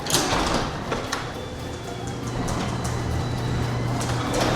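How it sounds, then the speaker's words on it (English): A residential garage door in a suburban Pittsburgh house runs very quietly, a low steady mechanical hum with faint rattles and light clicks throughout, with no one speaking. "this might be the quietest garage door in Pittsburgh"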